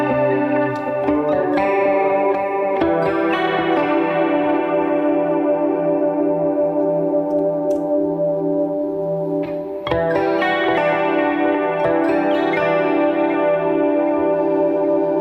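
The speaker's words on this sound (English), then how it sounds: "Let's go to a 70s chorus, which I pretty like." Electric guitar runs through a 70s chorus effect on a Line 6 Helix, giving sustained, shimmering chords with a wavering modulated tone. It plays continuously and loud, with no talking.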